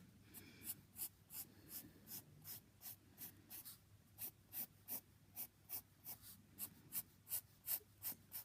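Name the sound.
pencil drawing on paper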